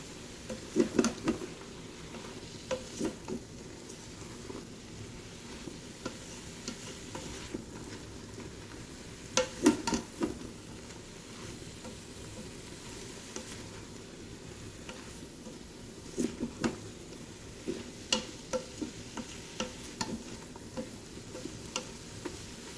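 Mushrooms and a couple of garlic cloves sizzle softly in a Ninja Foodi pot while being stirred, with scattered spoon scrapes and taps against the pot over a low frying hiss.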